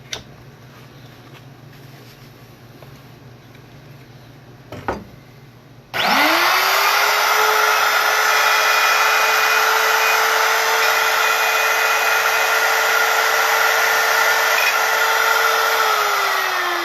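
A router spins up with a sharp whine and holds a loud, steady high-pitched drone while cutting channels, following a quiet stretch broken by a single knock.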